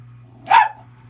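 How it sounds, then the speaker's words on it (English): A single dog bark, short and fairly close, rising sharply out of a quiet room with a steady low electrical hum underneath. "your dog is barking"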